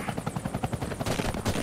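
Enemy gunfire in the video game Deadlight: a fast, rhythmic string of sharp shots close together, moderately loud and continuous across the short stretch, with no talking.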